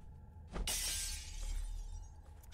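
Glass shatters loudly in the Dead Island zombie video game, a sudden bright crash that trails off into scattering debris over a low rumbling background, with no speech.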